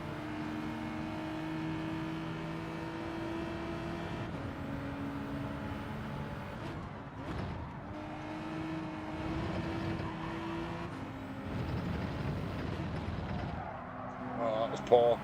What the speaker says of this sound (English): Elantra sounds brilliant.